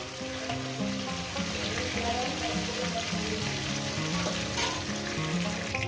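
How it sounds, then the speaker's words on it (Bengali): Fish heads frying in hot oil give a dense, steady sizzle with crackling pops throughout, close and continuous, with no speech over it. "মাছের মাথাগুলো আমি ভেজে নিয়েছি"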